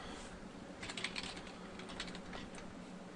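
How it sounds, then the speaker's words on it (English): A quick burst of soft keyboard clicks typing a web address on a computer, a tight cluster of keystrokes followed by a few scattered taps, faint and close against steady background hiss. "we'll just type in localhost."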